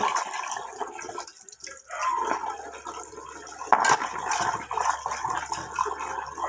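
Herbs for a hair pack are washed thoroughly in water, with continuous splashing and running water and occasional louder sloshes, close and steady, with no speech.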